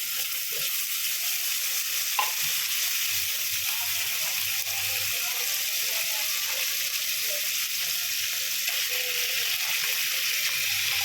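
Ground pork or beef (giniling) frying in a pan with hotdog for a red baked macaroni snack, a steady close sizzle with faint stirring clinks throughout, no talk.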